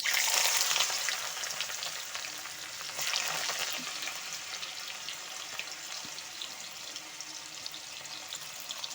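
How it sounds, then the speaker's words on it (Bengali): Bay leaf and carrot dropped into hot ghee and oil, frying with a soft continuous sizzle, a brief louder crackle at the start and again around a third of the way in, fairly quiet and without talk. "এখন ঘি আর তেলটা গরম হয়ে গেছে এখন আমি এর মধ্যে দিয়ে দিচ্ছি তেজপাতা দিয়ে দিচ্ছি গাজর"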